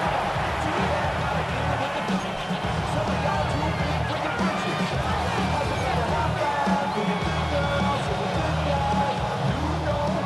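A stadium crowd in a video game football match swells with steady roaring cheers as play reaches third down late in the game, a loud continuous wash of noise under an excited announcer's commentary.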